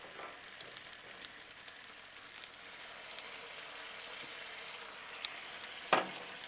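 Teriyaki-coated meatballs sizzle quietly and steadily on a flat griddle in a soft, continuous crackle, with one sharper clack near the end and no voices.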